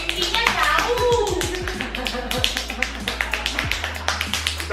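Hands clap in a regular quick rhythm, many crisp close claps, with people talking and laughing over the start before the clapping carries on steadily.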